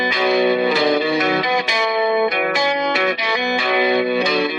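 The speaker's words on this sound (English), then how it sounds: "That sounds to me like the middle position on a Strat." Stratocaster electric guitar on the middle pickup position, played through effects with chorus, distortion and reverb; sustained chords ring loud and close, changing every second or so with no talk.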